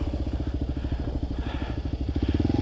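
A heavy dual-sport motorcycle, some 200 pounds heavier than a KLR and covered in cheap plastic, thrums steadily while riding across Rowe Mesa, its close, loud engine pulsing in an even rhythm throughout.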